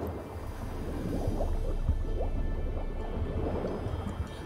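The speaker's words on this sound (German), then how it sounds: "Dann hier ins Wasser. Gerade mal unter Wasser gucken." Muffled underwater ambience while diving in The Witcher 3 video game: a steady low rumble with soft gurgles, bubbly squelches and drips scattered throughout, no voices.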